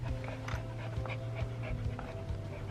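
Dogs pant rapidly and steadily at close range in a veterinary clinic waiting area, a continuous breathy rhythm with a faint whimper and no talking.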